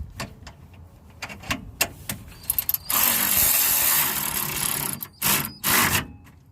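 Ratchet with an extension tightening a front sway bar bolt on a Honda S2000, a run of rapid close clicks followed by a loud sustained whirring rasp and two shorter bursts.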